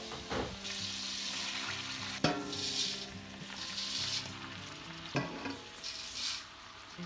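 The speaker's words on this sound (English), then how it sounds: "Now we'll remove the lid and add 8 cups of white rice." White rice goes into a large jambalaya pot of softened vegetables simmering on low heat, with a few sharp knocks and scraping stirs over a continuous sizzle, close by, no talking.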